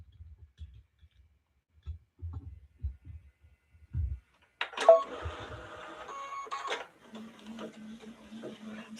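An embroidery machine stitches out a bride design for a mylar wedding quilt: a few soft thumps, then a dense, steady mechanical chatter of rapid needle strokes starts and runs on, close and moderately loud, with no talk.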